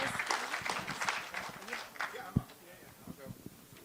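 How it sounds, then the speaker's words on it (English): Audience applause for a guest on a self-reliance talk stage, brisk clapping at first that thins and fades while people talk over it. "Big round of applause for John Willis."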